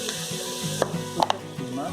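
Onions fry in a pan with a soft, steady sizzle, broken by a few brief scraping clicks of stirring.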